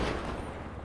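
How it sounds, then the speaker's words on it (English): A heavy revolver shot from a video game sound mod: one loud booming report with a decaying rumbling echo, alone and close. "Heavy revolver. Now, these supposed to have echo."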